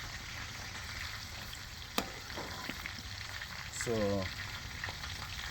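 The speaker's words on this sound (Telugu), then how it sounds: "ఈ చికెన్ ఇలా ఫ్రై అవుతా ఉంది" Boneless chicken deep-frying in oil for biryani makes a soft, continuous frying crackle, low and close, with a sharp tap and a brief word of speech over it.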